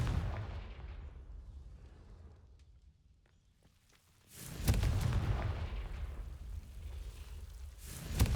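The Confringo spell explodes in Hogwarts Legacy as a booming blast. A fading rumble and crackle lead up to it, and a sustained roar follows the boom.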